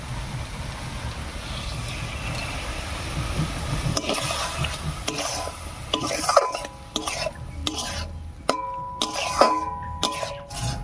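Tamarind pulp is stirred into a sweet-and-sour pumpkin curry in a pan, with a low simmering bed giving way to repeated scraping and clattering spoon strokes against the pan, close and moderately loud.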